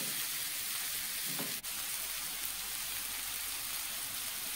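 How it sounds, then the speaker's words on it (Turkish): Onions sautéing in a pan on a stovetop give a steady, faint sizzle and fry hiss with one brief knock partway through, and no voices. "Soğanları ilk aşamada kavuracağız."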